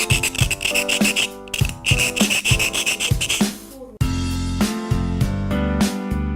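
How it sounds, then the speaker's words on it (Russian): A small hand file works the edges of an Ossetian wedding-dress belt piece, rapid rhythmic rasping strokes close up, repeating in short bursts before shifting to a steadier, denser scraping. "Так, берем напильничек,"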